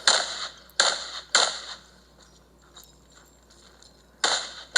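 Pistol gunshots at a USPSA Factory Gun national match stage, five sharp cracks in two groups, three quick shots then a pause before two more, loud and close with outdoor echo.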